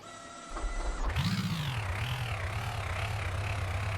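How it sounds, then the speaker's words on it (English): A home-built piston-powered combustion engine in a video game sputters to life after a brief click, then settles into a rough, throbbing drone with a wavering pitch, loud and alone. "Fire up that engine"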